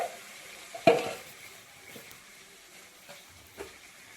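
Ingredients browning in oil in a pan for a local chicken dish, a soft, steady low sizzle with one sharp utensil knock near the start and a few lighter scrapes later, no voices.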